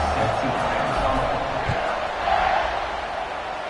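A college football stadium crowd roars before kickoff in the Baylor–TCU game, a loud, sustained wash of distant cheering and shouting that swells slightly near the middle, with an announcer's voice faintly underneath.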